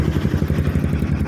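A used Bajaj Pulsar NS200 motorcycle engine runs nearby with a steady, rapid, pulsing putter at idle.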